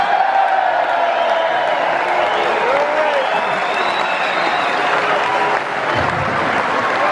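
Steady, full-house clapping with a few whoops fills the Hammersmith Apollo as Quadrophenia actors are welcomed onstage for a Q&A, and a voice speaks over the ovation.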